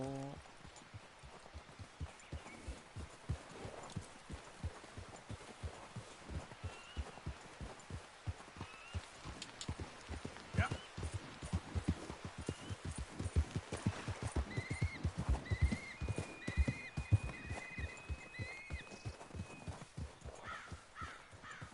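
A horse trots along in Red Dead Redemption 2, its hooves clopping steadily under rain-like patter, with occasional bird calls and faint game sounds throughout.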